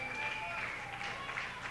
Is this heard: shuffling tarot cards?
no